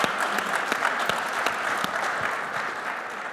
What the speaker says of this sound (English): If you don't mind just standing for a round of